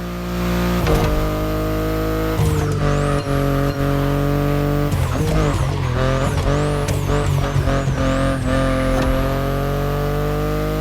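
A BMW i8 in the racing video game The Crew Motorfest drives with a steady, loud engine drone and rising, falling revs over about eleven seconds, with brief tire squeals and skids along the way and no talk.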